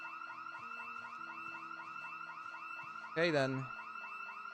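House alarm in a survival video game, a steady repeating electronic wail looping continuously at moderate level, with a short spoken remark cutting in near the end.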